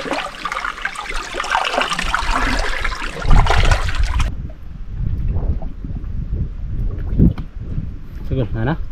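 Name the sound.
strong waves crashing at a sea cave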